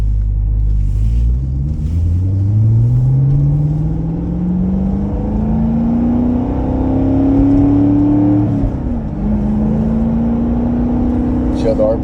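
A 2014 Corvette C7 Stingray engine idling up to higher RPM, a deep close rumble whose pitch climbs steadily, dips briefly, then holds at a raised steady drone.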